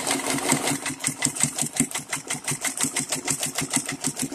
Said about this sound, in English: And now I let go of the reverse button, sew forward,